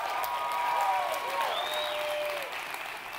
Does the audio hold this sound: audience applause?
yes